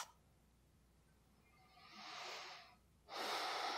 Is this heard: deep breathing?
yes